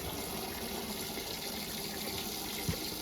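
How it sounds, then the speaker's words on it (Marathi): A water pot (kalshi) fills with water outdoors on a farm, a steady, faint gushing flow running continuously with one small knock near the end and no talking. "एक कळशी भरून घेत आहे."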